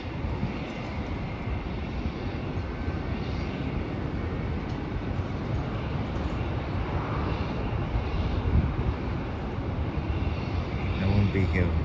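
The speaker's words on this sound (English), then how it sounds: "That's the Virgin Australia flight from Adelaide." A Virgin Australia airliner arriving from Adelaide lands at an airport, its engines producing a steady broadband roar heard from a distance, continuous and moderately loud.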